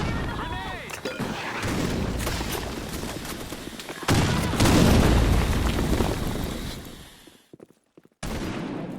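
Grenade blast in the Blackshot shooter game's Sand Storm map, landing amid sustained gunfire: a loud, dense roar of explosions and shots, a sharp boom near the middle, a brief drop to near silence, then the din resumes, with shouted voices.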